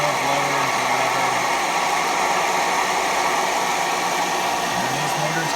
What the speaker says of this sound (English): Here's some more blowers or whatever.